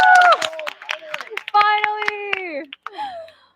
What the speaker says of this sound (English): Let's all cheer and clap.